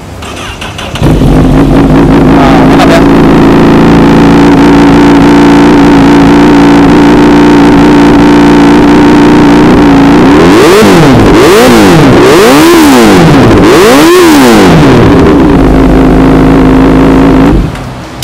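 Honda CBR 1000 SP inline-four superbike fitted with an Austin Racing exhaust idles loud and close, then blips through a series of sharp revs that rise and fall before settling back to idle.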